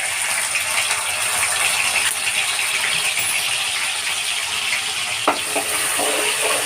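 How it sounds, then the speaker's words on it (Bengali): Garlic and ginger paste frying in hot oil in a pan for dry chili chicken, a steady broadband sizzle throughout with a brief clatter of stirring near the end, close and fairly loud with no talk. "প্রথমে আমি তেলের উপরে রসুন আর আদা বাটা দিচ্ছি"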